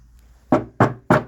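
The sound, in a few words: knocking on wood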